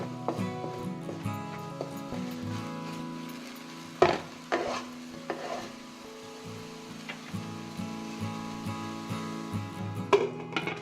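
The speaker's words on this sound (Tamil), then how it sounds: "இப்போ எடுத்து இது ஒரு வாட்டி நல்லா மிக்ஸ் பண்ணிக்கோங்க" Cooked yellow pumpkin for halwa is stirred in a pan, giving soft scraping and a few sharper clanks of a spoon against metal, with a faint low sizzle underneath and no speech.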